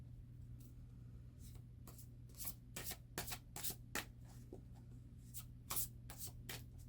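Tarot cards being shuffled by hand, with soft riffling and flicking bursts that come irregularly under a steady low hum, quiet and close.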